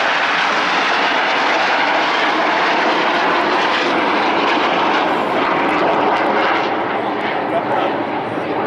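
RAF Red Arrows jets fly a formation display at RIAT, their engines a loud, continuous jet roar that rises and falls as they pass, with a commentator talking over it.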